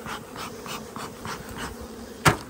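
Close, continuous buzzing of honey bees at an open beehive, a steady droning hum with a sharp louder burst near the end.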